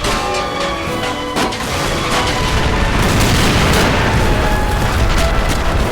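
Explosion in The Toy War video game, a loud dense rumbling boom with sharp bursts, layered over continuous battle noise that stays heavy and unbroken.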